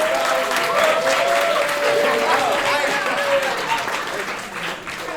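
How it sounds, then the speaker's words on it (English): A crowd at a live performance show claps energetically, a thick wash of applause that stays loud throughout and tapers slightly at the end, with voices calling out over it. "Clap it up."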